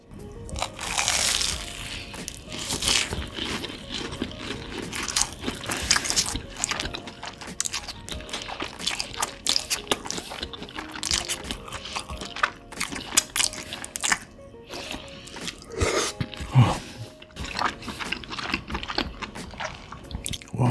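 Close, crunchy bites and chewing of homemade cheese sticks made from bread and cheese, crisp crackles repeating steadily for about twenty seconds with no talking.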